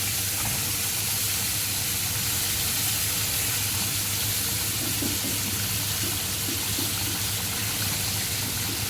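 Vegetables with lemon saute in a pan, giving off a constant loud sizzle and steamy hiss with no pauses.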